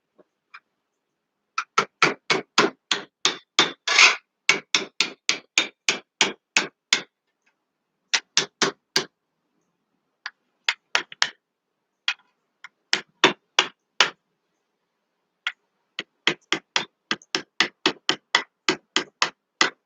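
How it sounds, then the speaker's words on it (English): A hammer's peening edge striking metal to curl a point over, with bursts of rapid, evenly spaced sharp clangs separated by short pauses, close and crisp in an otherwise quiet room. "I'm using the peening edge of my hammer to actually curl the point over"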